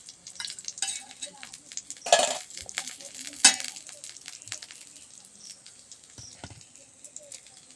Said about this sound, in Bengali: ভালো করে মিক্স করে নেব একটা চামচ দিয়ে।